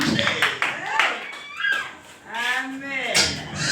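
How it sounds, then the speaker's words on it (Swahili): A church congregation claps in praise to Jesus during a Swahili service, several sharp rhythmic claps mingled with voices calling out and speaking over them. "Weka makofi nyingine kwa Bwana Yesu."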